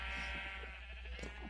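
Sheep bleating in the video game Minecraft, a single wavering bleat heard faintly and up close, standing alone over a quiet background.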